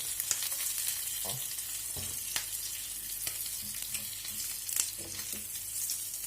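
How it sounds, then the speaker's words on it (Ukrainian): Pieces of rabbit meat fry in a pot, giving a steady close sizzle with scattered sharp crackles and pops, and occasional clinks of a utensil against the pot, with no talking. "І кожен кусочок я присмажу і вивезу сюди в другу каструльку."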